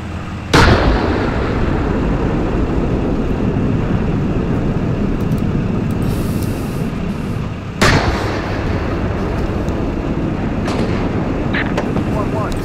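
Incoming fire in the tank simulator Steel Beasts Pro PE: two sharp, loud blasts about seven seconds apart cut through a steady low rumble of battlefield noise.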